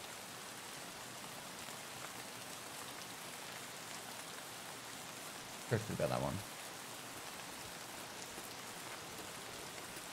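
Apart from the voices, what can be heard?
rain in a video game (Escape from Tarkov)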